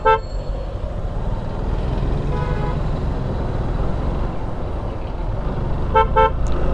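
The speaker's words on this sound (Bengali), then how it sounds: "এখনো জ্যাম চলছে" Heavy traffic jam on the Chittagong highway at Barabkunda, Bangladesh, with a steady roar of engines and nearby car horns honking in short bursts at the start, around the middle and near the end.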